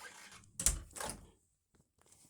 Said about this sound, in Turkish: kapıyı kapatalım da hiç kimse gelmesin